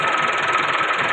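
A farm tractor's engine runs steadily in a Punjab village, a close, continuous mid-pitched rumble with a faint knocking rattle and no break in level.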